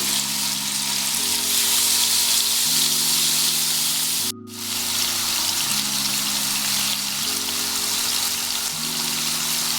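Adana kebab sizzling over low heat, a steady broadband frying hiss running the whole time with a low hum beneath it, broken once by a brief dropout near the middle.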